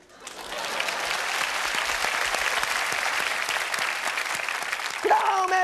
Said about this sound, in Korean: 대개 대학 나온 사람은 여기서 박수 쳐.